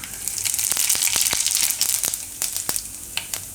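Cumin seeds crackle and sizzle in hot oil left from frying methi malai muthiya, the gas turned low; steady close frying hiss with sharp pops scattered throughout, no voices.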